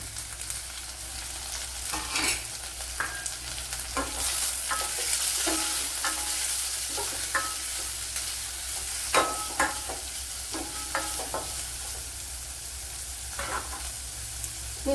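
Small shallots and onion fry in a pan, giving a continuous close sizzle with frequent spatula scrapes and taps scattered irregularly throughout, steady and moderately loud, with nobody talking.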